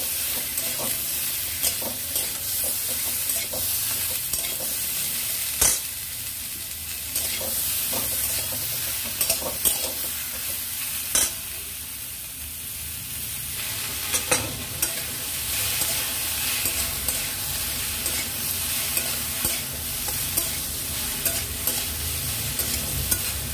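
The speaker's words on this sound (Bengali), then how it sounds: "লবণ হলুদ দিয়ে সবজিগুলো ফ্রাই করে নিচ্ছি।" Vegetables for a kakrol dish fry in a pan with salt and turmeric, a continuous close sizzle with occasional clinks and scrapes of stirring throughout.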